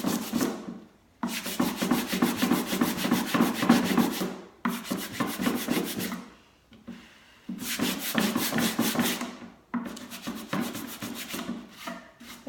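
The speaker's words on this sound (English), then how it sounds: "sanding all the imperfections to make it perfectly imperfect" Rhythmic scratchy rubbing of sandpaper on a wooden drawer in several long bursts separated by short pauses, close and steady, with no talking.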